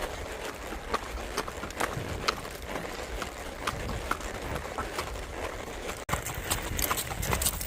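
Hooves of gaited horses on a trail ride beat out a steady, even walking rhythm over a constant rumble of outdoor noise, the hoofbeats fairly faint and regular.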